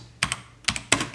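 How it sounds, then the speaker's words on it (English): A few quick keystrokes click on a computer keyboard as a short command is typed, three small bursts of taps close and clear with no talking. "Type in terminal and gs"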